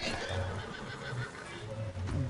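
A horse in Red Dead Redemption on PS5 lets out a long, shaky whinny over ongoing game ambience, fairly quiet and up close, with a light clatter of hooves underneath.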